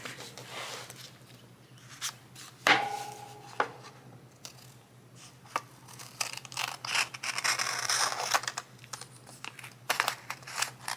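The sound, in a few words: cutting paper with Westcott no-stick scissors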